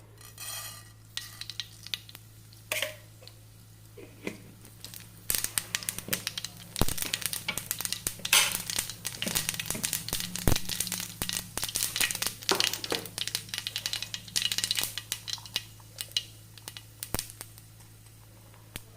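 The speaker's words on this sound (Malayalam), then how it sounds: "കടുക് പൊട്ടി തുടങ്ങി" Mustard seeds in a hot pan crackle and pop in dense irregular bursts over a low steady hum, joined by occasional utensil clinks, with no one speaking.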